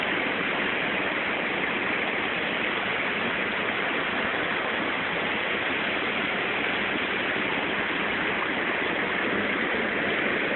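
Cachoeira do Evilson, a waterfall in Taquaruçu near Palmas, Tocantins, roars as a dense, steady rush of falling water, loud and close, unbroken from start to finish with no voices.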